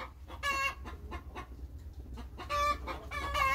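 A laying hen in a henhouse clucks and squawks in short repeated bursts, close by, with a steady low hum in the background.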